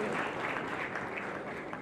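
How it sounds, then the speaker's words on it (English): A conference audience applauds a panel at a Nigerian tourism business event, a steady, even wash of many hands clapping at moderate volume throughout. "please let's make the applause louder"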